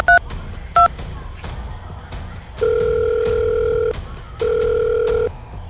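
Telephone dial tones: two short electronic beeps of keypad dialing, then a steady ringback tone sounding in two long pulses, loud and close over a faint background.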